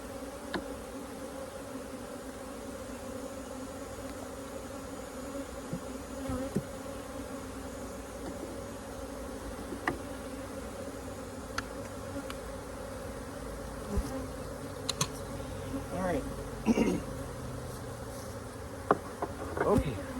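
Loud, continuous swarming hum of angry honeybees inside a queenless hive, punctuated by scattered clicks and small bumps.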